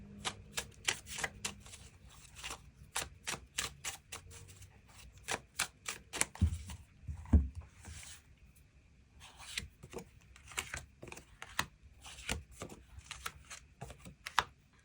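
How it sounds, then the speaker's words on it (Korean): Tarot cards being shuffled and drawn: a rapid run of crisp, dry card snaps and flicks at close range, uneven in rhythm, with short pauses and a few soft thumps, no talking. "그 부분 추가 카드 뽑아보도록 하겠습니다"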